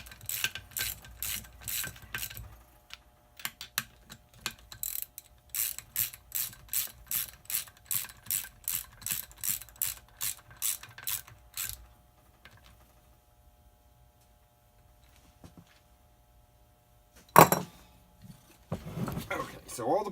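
A ratchet clicks in long rapid rhythmic runs as bolts are tightened on an NP 205 transfer case, close and crisp, then falls quiet before a sharp metallic clank and brief handling noise.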